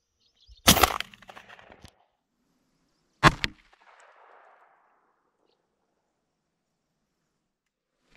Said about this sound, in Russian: Стреляем по балде. Надеюсь, попаду.